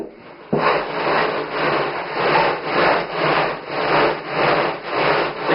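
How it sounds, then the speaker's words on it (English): Bare feet grind back and forth in gravel inside a foot bath, a steady rhythmic scraping and rasping with regular surges about every half second, close up and without talk. "you just grind your feet in that gravel, and it feels really good."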